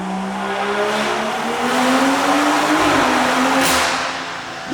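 A loud, tuned 600 hp BMW M140i F20 hatchback engine drones steadily, pitch rising and dipping slightly as the car passes close by, ending with a sharp pop.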